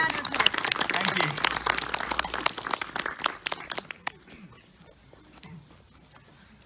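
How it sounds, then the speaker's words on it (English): A church congregation at a family service at St Oswald's, Croxley Green, claps in a dense burst of applause that thins out and fades after about four seconds, leaving quiet room sound. "Can we give Anthony a round of applause"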